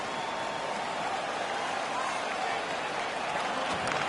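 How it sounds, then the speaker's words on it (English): In a PS4 ice hockey video game, the arena crowd keeps up a steady, dense roar of cheering, with a commentator's voice talking over it. "The crowd is so pumped right now."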